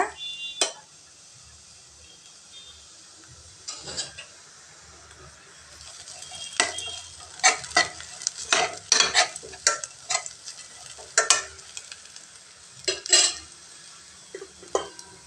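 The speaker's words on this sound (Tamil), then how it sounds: "வெங்காயம் நல்லா வதங்கிடுச்சுங்க. இப்போ மஞ்சத்தூள் கொஞ்சம் சேர்த்துக்கலாங்க." Onions softened in oil in a pan with a little turmeric added, stirred with a spatula: a low steady sizzle under repeated sharp scraping and clinking strokes that grow busier and louder toward the end, with no talking.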